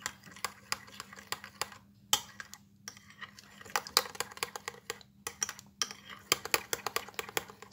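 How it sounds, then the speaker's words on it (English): A spoon stirs a flax seed and coconut oil hair mask with banana in a bowl, giving quiet, uneven clinks and scrapes against the bowl at close range with gaps of silence between strokes. "And I'm going to give it a stir."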